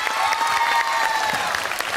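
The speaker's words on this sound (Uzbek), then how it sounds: "olqishlab qo'yamiz" A television talent show audience applauds a performed song, dense continuous clapping that fills the whole moment, loud and steady without any voices on top.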